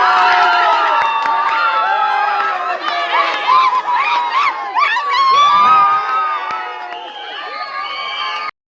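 Neighbourhood crowd watching an Argentina football match erupts in loud, sustained cheering, shouting and whooping after a goal, a dense mix of excited voices from adults and children close by.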